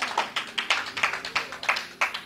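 A small group claps for Jesus at a church gathering: a steady run of about fifteen sharp, fairly close claps in a quick regular rhythm, with no voices over them.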